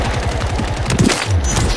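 Rapid automatic gunfire from Call of Duty: Modern Warfare III, a steady stuttering burst of shots rattling close and loud for under two seconds, with a few heavier thumps near the end.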